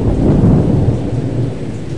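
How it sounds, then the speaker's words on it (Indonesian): Heavy rain pours steadily in Jakarta with a deep rolling rumble of thunder underneath, loud and close, with no voices. "Hari itu, kala hujan lebat masih melanda Jakarta"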